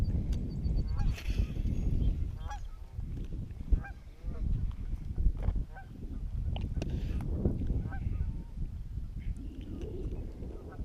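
Geese honk repeatedly at a lake during an April outing, a busy overlapping flock at moderate distance over steady outdoor background noise.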